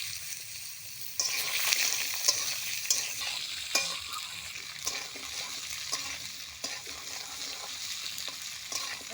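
Taro (mankochu) pieces sizzle and fry in a pan with dried chilli, five-spice and cumin, a steady crackling hiss with occasional stirring scrapes, close and continuous.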